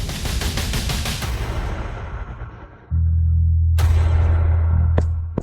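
Gunfire in a drama scene: dense, rapid automatic bursts that fade out, then a loud low hum cuts in, joined by a couple of sharp single shots near the end.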